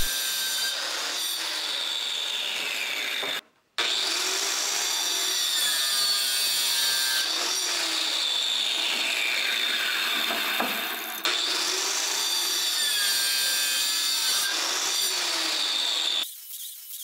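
Hand saw cutting pieces of wood held in a jig with wooden guides and nails, building a wooden basket for newborn photography; steady back-and-forth rasping strokes in long repeated runs, close and clear with no talk.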